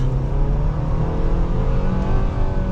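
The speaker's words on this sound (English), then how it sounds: "So setting off now in the Nissan Sentra." A 2024 Nissan Sentra SV Premium engine hums and rises in pitch as the car pulls away and gathers speed, close and steady throughout.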